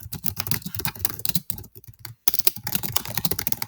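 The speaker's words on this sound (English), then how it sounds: "So I literally type in the song name, the band, and song length." Fast, close clicking of keys on a computer keyboard, with rapid keystrokes broken by a couple of brief pauses.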